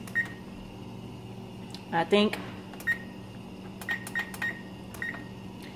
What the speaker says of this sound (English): I'm going to set my timer on the stove